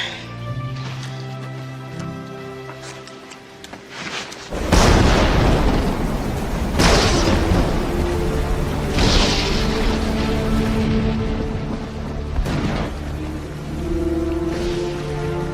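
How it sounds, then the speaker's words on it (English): A terrible wet, very windy storm in a classic Western drama: several loud booming thunder crashes roll over a constant roar of rain and wind, with musical tones underneath. "Wet, windy, very windy. It's a terrible storm."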